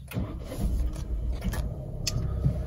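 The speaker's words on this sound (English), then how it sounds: "Let me start the engine, see if they come up." A Fiat 500X Cross Plus engine starting, with a low rumbling crank that settles into a steady idle hum, recorded close inside the car with a few faint clicks.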